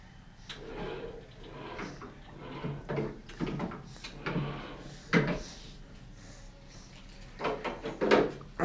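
A door opening at Straker lodge in Kielder, heard as a series of wooden clunks and knocks at irregular intervals, fairly close, against a quiet indoor background.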